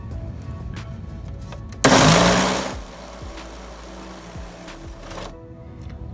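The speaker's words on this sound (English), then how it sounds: "Here on the flat lap, what I'm trying to do is just make a little bit of a flat surface right there" Flat lap grinding a flat spot onto an Isle Royale greenstone for a ring bezel: a steady whirring motor hum throughout, with a louder harsh grinding burst of about a second where the stone meets the lap.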